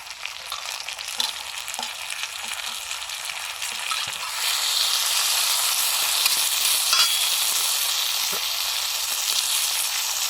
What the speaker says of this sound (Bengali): এবার দিচ্ছি টমেটো কুচি